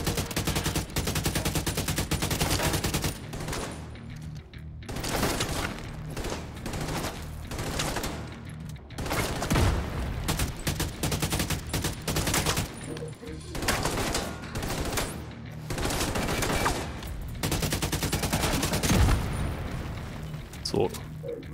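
Rapid gunfire in the video game Tom Clancy's The Division 2, repeated loud bursts of automatic fire with booming impacts, with a player talking between the volleys.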